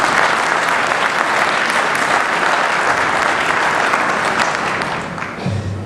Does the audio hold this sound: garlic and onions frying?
no